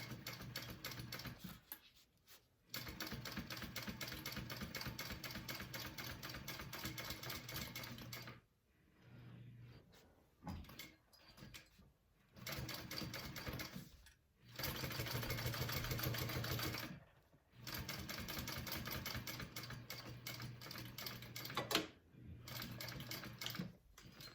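A home sewing machine runs in long stitching bursts while sewing down a raw fabric edge at a 3/8 inch seam on a bag, its steady motor hum and needle clatter broken by brief pauses between runs.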